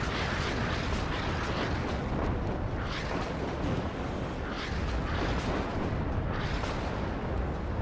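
Artillery fire in the WARNO wargame pounds without pause, a dense and loud wall of overlapping booms and rumbling blasts, with sharper impacts cutting through the din.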